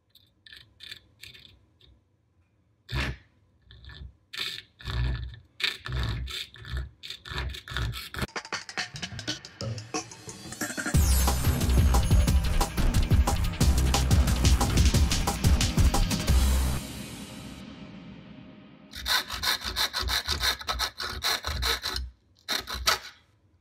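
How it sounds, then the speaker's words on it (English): A hand hacksaw cuts by hand in a workshop, starting with scattered rasping strokes, then building into a long, loud, steady run of sawing before resuming in shorter bursts. "let's go and do some cutting over here with my hacksaw"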